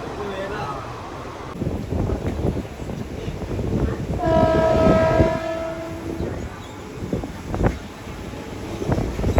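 A train rumbles past at Palghar railway station on windy, noisy ground while a horn sounds for about two seconds midway; a voice speaks under the noise.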